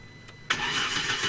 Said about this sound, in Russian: Машина заводится.